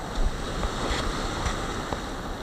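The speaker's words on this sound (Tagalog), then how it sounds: "Ina, lakas na mga alon." Strong ocean waves crash and surge onto a beach at Sual, Pangasinan, giving a steady, loud wash of surf mixed with wind buffeting the microphone, with no voices.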